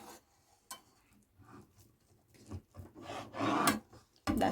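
Knife slicing an egg in half on a board in a home kitchen while making a budget breakfast, a few soft scraping rasps and light taps, close and quiet, ending with a sharper knock.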